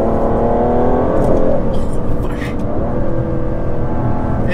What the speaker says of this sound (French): Il y a un espèce d'effet biturbo, alors qui est pas très violent, mais qui est monstrueusement puissant quoi.